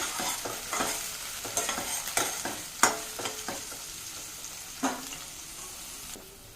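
Onion, cumin and kasuri methi frying in a pan, stirred with a utensil that scrapes and taps in irregular strokes over a soft steady sizzle, close and clear.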